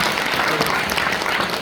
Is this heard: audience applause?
yes